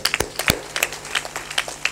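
An audience at a Hindu spiritual discourse claps in scattered, uneven bursts, a few sharp hand claps at a time over a low room hum, fairly close and moderately loud with no voices.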